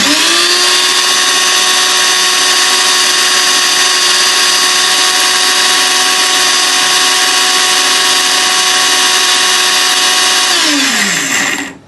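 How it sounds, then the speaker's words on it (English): A Robot Magic 5500W blender runs at high speed with a loud, steady, high-pitched motor whine that holds constant for about eleven seconds before spinning down sharply at the end. "Robot magic blender."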